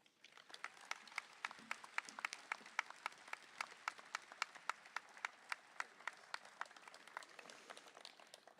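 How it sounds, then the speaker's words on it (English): At a community college commencement ceremony, the audience gives a round of applause that sounds thin and distant, with sharp individual claps standing out in an irregular rhythm. "let's give her one more round of applause"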